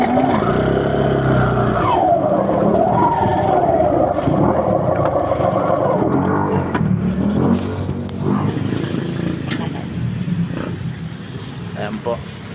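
A tricycle edging forward a short distance, its small motor droning steadily under near continuous talk, with engine tone shifting as it rolls before the sound eases off toward the end.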